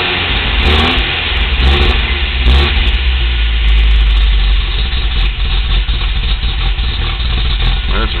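A car engine running rough revs and sags, nearly dying when the gas is pressed and then climbing again as the throttle is eased, loud and close with uneven surges.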